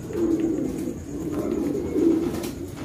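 Young racing pigeons coo steadily in a low, throaty rolling murmur from nearby, several soft calls overlapping with no talk.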